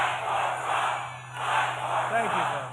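Rally crowd at a Donald Trump event in Georgia chanting in loud, steady waves that swell and dip, filling the space with a dense roar of many voices.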